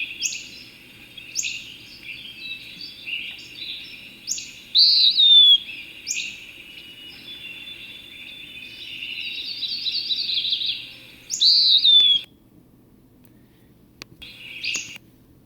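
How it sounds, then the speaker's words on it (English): A western wood pewee in the Bulkley Valley repeats high, buzzy, downslurred calls, some short and some drawn out, loud and close against a quiet outdoor hush. "the one making that sound was the western wood pewee"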